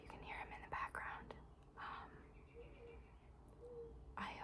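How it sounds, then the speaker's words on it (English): A mourning dove coos softly and far off outside a window, its low notes nearly buried under close whispering and faint outdoor background noise. "I believe it's a mourning dove."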